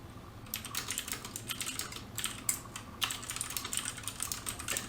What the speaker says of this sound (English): Those clicky Alps switches